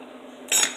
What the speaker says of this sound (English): actually I can stir it a little bit more because it is starting to thicken